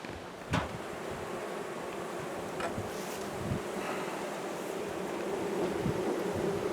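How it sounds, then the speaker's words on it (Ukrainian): Steady buzzing of many purebred Carpathian honey bees around a hive, a dense continuous drone with a few closer passes, outdoors with light wind. "Так працюють чистопородні карпатські бджоли"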